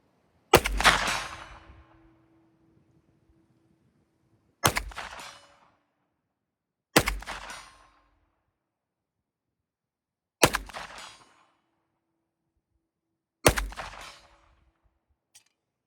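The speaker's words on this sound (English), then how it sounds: "Now the 124 grain reloads, we're gonna shoot the middle target." Five sharp gunshots from reloaded 124 grain ammunition, fired at a target 100 yards away, crack out one at a time at irregular intervals of several seconds, each with a short echoing tail.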